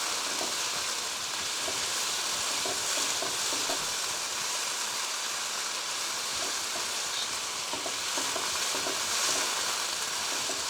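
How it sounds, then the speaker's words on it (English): Chicken fries in a pan for Hakka noodles, giving a loud, steady, close-up sizzle that runs unbroken throughout, with faint stirring clinks beneath it. "You see it is frying."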